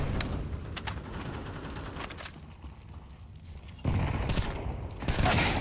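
Rapid bursts of gunfire and sharp shots crackle through an ESL Challenger League esports match with bomb objectives, dense and loud for a few seconds, then dropping to a quieter lull before more shots.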